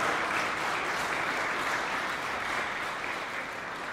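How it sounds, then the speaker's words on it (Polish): An audience at a chamber music concert gives a sustained, even round of applause for award winners, the clapping dense and fairly distant with no voices over it. "ale gratulujemy i duże brawa."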